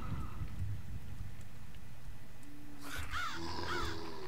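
A crow caws a few times in Blood Lust: Vampire Shadow Hunt, its calls rising over a steady rumbling game ambience in the last second or so, after a stretch of low background noise.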